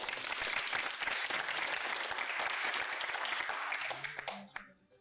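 Steady applause from a studio audience during a talk show, dense clapping that holds for about four seconds before tapering off at the end.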